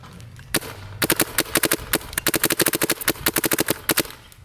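Shocker AMP paintball marker on a mechanical CC frame firing a rapid string of sharp, loud pops in quick uneven bursts, close and alone.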